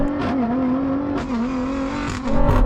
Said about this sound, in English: let's race